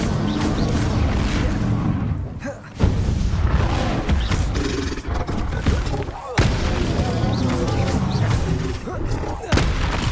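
Bombarda blasting-spell explosions in Hogwarts Legacy sound as loud, dense booming roars that fill the whole stretch almost without pause, with a few sudden fresh blasts.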